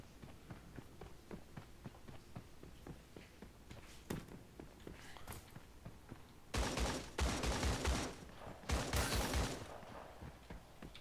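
Bursts of rapid gunfire from the video game Creative Destruction, with quieter shots and footstep-like taps early on, then two loud sustained volleys close by near the end.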